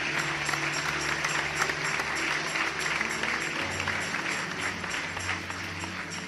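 A church congregation claps together in sustained applause, steady and moderately loud, with a low hum of music or instruments underneath.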